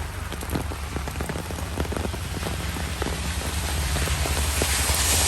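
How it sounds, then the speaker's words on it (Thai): Heavy rain from a summer storm in Sydney pours down in a dense, continuous hiss of drops on surfaces. It holds loud and steady and swells slightly toward the end, with no voices over it. "ฝนตกมากค่ะฝนตกแรงด้วย"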